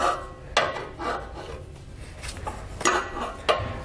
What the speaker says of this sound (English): I'm going to use it to pry against the tailpipe till I can pull the hanger out